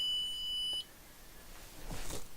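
A Pixl.js buzzer sounds a steady high-pitched alarm beep for about a second and then cuts off, followed by quiet handling noise.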